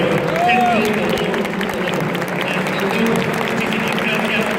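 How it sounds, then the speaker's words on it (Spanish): Loud, sustained applause from a conference audience for a keynote lecture by Dr. Sergio Tobón, a dense wash of clapping that holds steady for the whole stretch with no voices over it. "el aplauso muy fuerte para el doctor Sergio Tobón"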